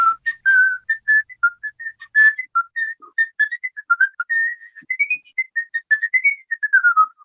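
A lone person whistles a bright, quick melody of short detached notes from the last movement of Haydn's Trumpet Concerto, lively and clear, running several seconds.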